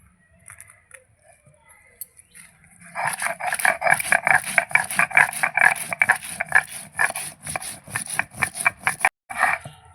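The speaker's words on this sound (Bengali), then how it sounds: "শুকনো লঙ্কাও জিরের সঙ্গে বেটে নিয়েছি।" Dried chillies ground with cumin on a traditional grinding stone: after a quiet start, a steady rhythmic scraping and rasping of stone on stone, close and fairly loud, with a brief pause near the end.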